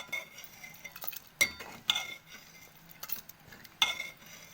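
A spoon stirs ginger-garlic paste through a pot of Telangana thummi curry dal, with soft scraping and a few sharp metallic clinks against the pot's rim, each clink standing out from a quiet background.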